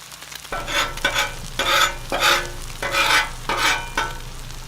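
Eggs cook on a hot griddle: a loud close sizzle breaks into rhythmic bursts of scraping and spatula turns, about six strong swells over a steady hiss.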